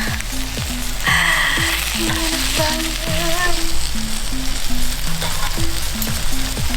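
Pork intestines fry in a pan on a stove in a Korean restaurant, giving a loud, steady sizzle throughout with scattered pops and clinks. Background chatter, music and a voice run faintly underneath.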